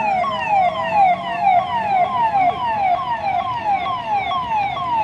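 A pilot ambulance in a Republic Day parade sounds its siren, a loud, continuous rapid wail sweeping up and down, with faint road-vehicle rumble beneath.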